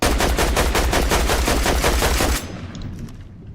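Rapid automatic gunfire in a battle royale video game, loud and dense with fast repeating bursts, cutting off abruptly and leaving faint quieter game sound behind.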